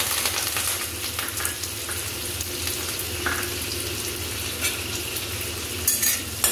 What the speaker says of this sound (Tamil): எண்ணெய் சூடாகிடுச்சு. அதில் நம்ம வச்சுருந்த இந்த பெரிய வெங்காயம் கருவேப்பிலை ரெண்டையும் நான் அதில் போடுறேன்.